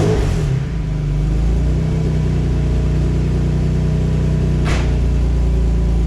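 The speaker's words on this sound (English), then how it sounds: "what I'm gonna do now is just let the car run for a little bit" Toyota MR2 SW20 engine, a minivan-swapped unit, runs steadily after startup with a loud, even low drone and a deep hum throughout, with no one talking.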